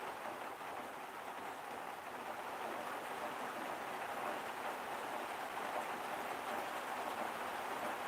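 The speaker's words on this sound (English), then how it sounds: "I'm going to have to go and walk the dogs in the rain in a second anyway, because it is raining." Steady rain falls without a break, a dense, even hiss of drops striking surfaces that holds at a constant moderate level throughout, with no voices.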